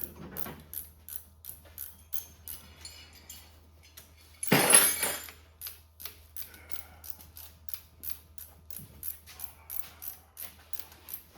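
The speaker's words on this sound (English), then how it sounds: "I don't know if the ratchet wrench will work or not." A ratchet wrench works on a broken bolt on a Ford F100 in a garage, giving a steady run of quick metallic clicks with one louder clattering burst midway, and no voices.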